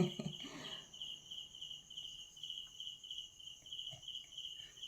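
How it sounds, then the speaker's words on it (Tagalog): Crickets chirp in a steady, rapid pulsing trill against a quiet night background, continuous and fairly faint. "So pati kuliglig, ang ingay ng mga kuliglig."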